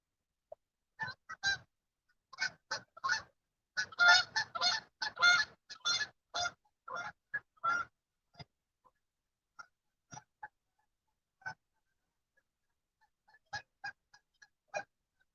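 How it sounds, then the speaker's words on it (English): A flock of geese honks by a river at night, a burst of loud overlapping calls in the first half that thins to scattered honks and then a final cluster, with no talking. "There's the geese coming back in that you all heard before."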